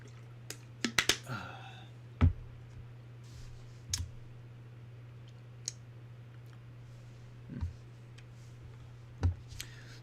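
Sparse keyboard and mouse clicks at a computer during a Warhammer 40K: Rogue Trader game session, a few isolated sharp taps and short bursts spread over a steady low hum, fairly close and quiet, with no talking.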